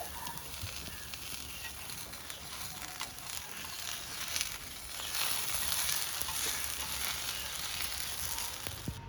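Masala dosa frying in a little oil on a hot pan, a steady close sizzle and crackle that runs through the whole stretch and swells slightly louder toward the end.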